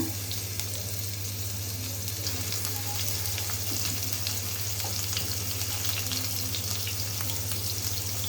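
Onion paste and spices frying in a pan for a country chicken curry, a steady dense sizzle with a low steady hum underneath, continuous and close throughout.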